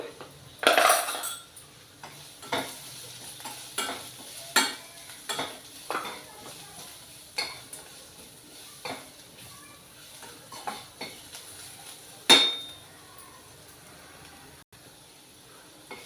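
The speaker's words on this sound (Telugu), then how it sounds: "ఇవి వేగిపోయాయండి ఉల్లిపాయలు" Fried onions are stirred in a pan with salt and chilli powder for a coconut and chana dal curry, each spoon scrape a sharp metallic stroke at uneven gaps over a faint, low sizzle.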